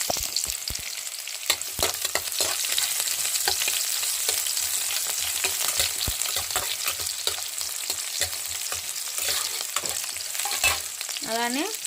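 Onions, green chillies and beetroot sizzle and crackle steadily in a hot pan, loud and close. Frequent scraping stirs and clinks of a spoon sound over the frying, with no voices.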